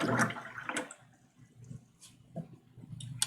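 A paintbrush being rinsed in a water container during acrylic painting, giving soft sloshing and splashing with a few brighter clinks and drips, close and moderately quiet, with no speech.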